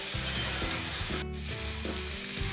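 Steady, bright sizzling of small fish curry with brinjal frying in a pan, with soft scraping and stirring knocks under the hiss and no talking.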